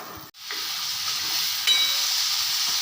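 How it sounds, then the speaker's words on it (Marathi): Onions frying in a pan until reddish, for a masoor dal, a continuous bright sizzle that briefly cuts out near the start, then carries on steady and close with a faint stir. "आता यांना आपण व्यवस्थित फ्राय करून घेणार आहोत कांदा थोडासा लालसर होईपर्यंत आपण त्याला भाजायचा आहे"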